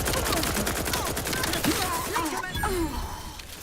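Turret gunfire in the video game The Outer Worlds 2 rattles in quick repeated shots, steady and fairly loud, mixed with other game sounds and brief whooshing tones.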